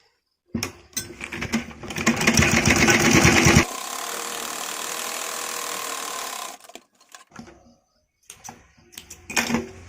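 A sewing machine stitching together the pieces of a baby kurti runs in two steady bursts, the first louder and denser with a fast mechanical rattle. Short stop-start stitches and faint handling clicks follow.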